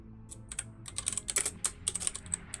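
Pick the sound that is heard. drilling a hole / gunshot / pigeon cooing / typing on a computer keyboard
typing on a computer keyboard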